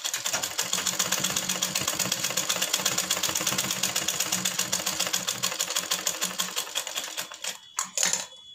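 A sewing machine stitches fabric for a baby girl's hanky-cut frock in a fast continuous rattle that stops near the end with a few short bursts and clicks.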